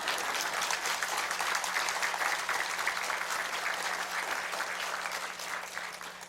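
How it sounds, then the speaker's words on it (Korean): Clapping from a church revival meeting audience, a steady dense patter lasting about six seconds at moderate level, gradually thinning toward the end. "한 분이 계속 혼자 박수 치고 있어."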